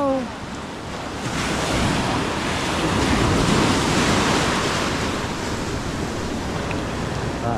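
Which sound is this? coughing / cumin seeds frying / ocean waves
ocean waves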